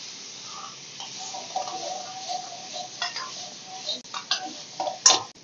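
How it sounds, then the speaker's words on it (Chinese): Sliced meat with ginger and garlic stir-fries in a hot wok, a light crackling sizzle punctuated by sharp scraping clinks of a spatula against metal that grow louder toward the end. "下入刚才切出来的肉， 姜蒜片也一同放进去。"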